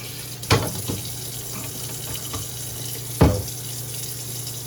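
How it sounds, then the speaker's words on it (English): Tap water runs steadily into and over a film developing tank being rinsed, a close, continuous wash broken by two louder splashing surges as the tank is handled. "Now I'm going to start to rinse."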